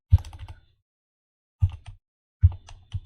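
Close, crisp keystrokes on a computer keyboard while Python code is typed, coming in three short bursts separated by silent pauses, with no talking.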